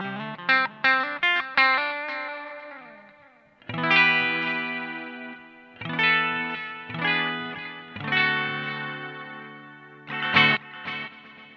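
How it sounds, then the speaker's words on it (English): An electric guitar runs through a Strymon Volante delay pedal set for ambient multi-rhythm feedback-head repeats, chords and plucked notes trailing into layered, overlapping echoes that swell and decay in waves, with no talk. "this is going to be more of an ambient kind of sound"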